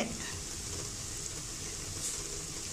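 Masala powders (turmeric, chilli and coriander) being stirred in a frying pan for channa masala: a steady close sizzle and frying hiss runs throughout with soft scraping of the stir, no talking.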